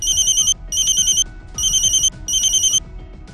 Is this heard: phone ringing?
yes